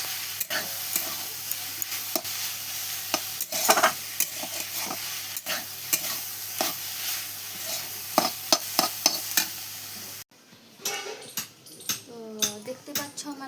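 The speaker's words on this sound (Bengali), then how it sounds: "এখানে শাক ভাজা রয়েছে" Leafy greens frying in a pan make a steady sizzle broken by sharp clinks and scrapes of stirring, with a quieter, more muffled stretch near the end.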